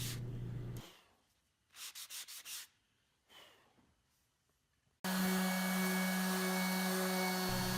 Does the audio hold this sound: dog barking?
no